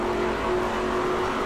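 The number 64 NASCAR race car drives past on the track, its engine a loud, steady roar that fills the moment without a clear rise or fade.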